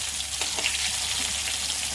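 Eggplant frying in hot oil, a steady, even sizzle with faint crackles, no voices over it.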